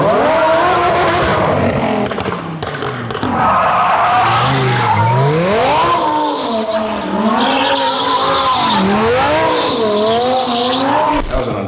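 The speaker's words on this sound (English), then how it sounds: "But first, warm up the tires." A car's tires shriek continuously while being warmed up before a race. The loud, wavering squeal rises and falls in pitch for the whole stretch over a roaring engine.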